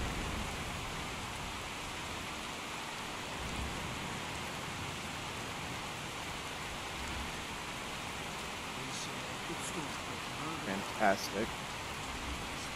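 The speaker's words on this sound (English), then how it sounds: "Can't hear Buckus over the rain" Rain falls in the video game Skyrim as a steady, soft hiss that stays even throughout, and a voice speaks briefly near the end.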